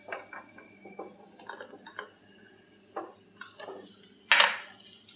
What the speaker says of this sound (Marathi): बोंबील काढून घेऊया आपण आता.